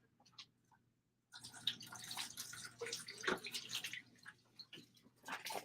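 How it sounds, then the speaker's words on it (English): Tap water runs and splashes steadily while dye is rinsed off, a close, moderately loud wash of water after a brief quiet start. "Let me rinse this off."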